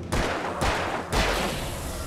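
Three loud video game gunshots in Alan Wake fire in quick succession, each a sharp blast with a booming tail, the last echoing out.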